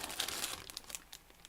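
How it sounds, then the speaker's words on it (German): A Dragon 1/35 scale Sd.Kfz. 7 8-ton halftrack model kit box being opened, its sealed plastic parts bags crinkling and rustling close up in a dense burst that thins out toward the end. "wenn man die Schachtel öffnet, findet man"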